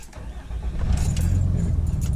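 A diesel truck with a grid heater cranks and fires on a cold morning, the low rumble swelling into a steady close idle over about two seconds, with some light clinks on top.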